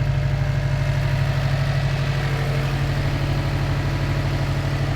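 A Subaru WRX engine idles steadily nearby after repair, no longer smoking, a low rhythmic rumble with a constant mechanical hum and no voices.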